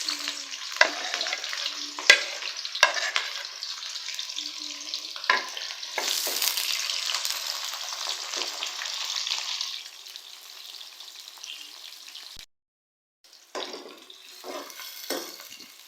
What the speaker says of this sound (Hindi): अब हम इसमें ऐड कर देंगे 2 मीडियम साइज के प्याज।